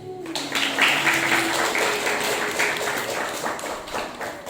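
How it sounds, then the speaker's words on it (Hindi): A crowd breaks into sustained applause, steady clapping from many hands that carries on for several seconds. "एक बार सभी ताली बजा दें"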